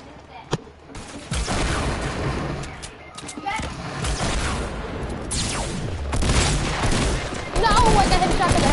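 Rapid gunfire bursts in a Fortnite match, sharp cracks and fusillades layered over excited players talking continuously throughout.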